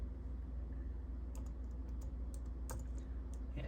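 Scattered keystrokes on a computer keyboard beside a Power Mac G5 from 2003, a few quiet clicks over a steady low machine hum.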